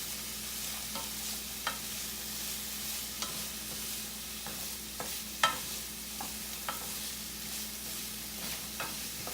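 Frozen precooked vegan taco filling heating in a pan, with a steady low sizzle and occasional soft stirring scrapes and clicks, fairly quiet and close, no talking.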